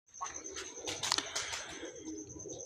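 Domestic pigeons coo softly at close range in a loft, low throaty calls repeating under a steady high background tone, with brief rustling or wing movement midway.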